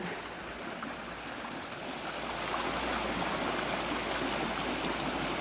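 Small waterfall on a stream in Norway during snowmelt, a steady close rush of falling and flowing water that swells slightly louder partway through, with no voices.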